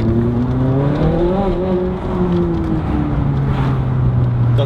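A Ferrari 458 Spider engine with an Armytrix titanium exhaust droning and shifting pitch, its exhaust note rising and falling steadily, loud and continuous from inside the car.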